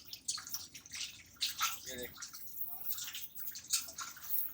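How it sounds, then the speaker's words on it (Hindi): Water gushes and splashes from a motor-driven pump, a steady pouring rush with dripping and gurgling close by, while someone talks over it. "ये देखिए पानी स्टार्ट किया और ये पानी चला"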